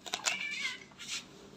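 Mingming, a cat on a farm, meows a few times just before feeding: short, fairly quiet mews close by, one drawn out, followed by a softer cry.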